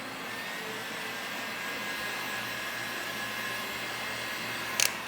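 A heat gun blows a steady, even broadband hiss while warming vinyl wrap film on the trunk of a Hyundai Elantra N, with a brief small click near the end.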